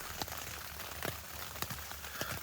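Steady rain pattering on a Reactive Outdoor 3Secs tent at night, a dense continuous hiss with scattered sharper drops striking the fabric close by.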